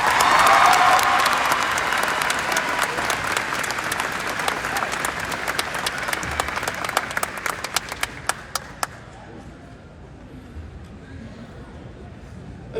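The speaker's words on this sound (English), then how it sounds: "Let's give those speakers a big round of applause" A crowd claps at a high school graduation ceremony for Somali students, loud and dense at first, then thinning to scattered sharp claps before fading into quiet room noise.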